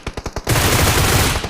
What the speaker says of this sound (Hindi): पीछे से भी गोलियां चलती हुई